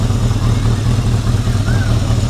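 A Yamaha XS1100 motorcycle idles close and loud, its steady pulsing rumble holding nearly even as the idle is turned down, with a faint voice under it.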